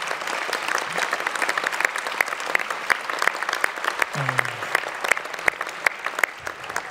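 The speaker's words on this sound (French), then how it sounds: "Oui, on peut applaudir pour Pompidou" Audience applause at a 2024 New Year's greetings ceremony, a steady dense patter of many hands clapping throughout, with a brief low voice murmur partway through.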